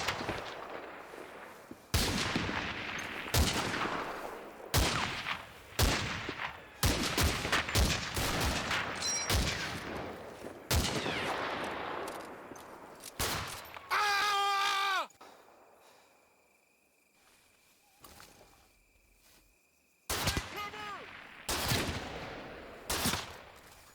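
Pistol and rifle shots crack through a close-quarters firefight in the video game Combat Mission: Fortress Italy. Sharp, loud reports come in irregular bursts, then drop to a near-silent lull before a final volley.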